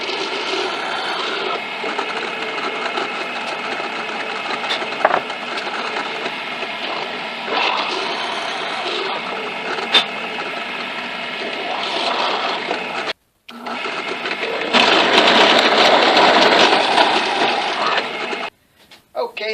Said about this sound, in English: so now we got the hole drilled here